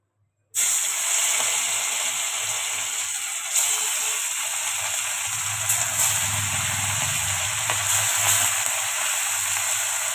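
Morla fish (small freshwater fish) frying crisp in hot oil, a steady close hiss and sizzle after a sudden start, with faint bubbling and low clatter underneath, no talking.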